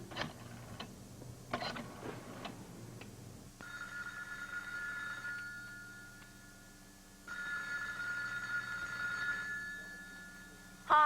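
A telephone rings during a 1989 soap opera scene, two long electronic ring bursts sounding over a quiet room with a faint ticking, and no voices.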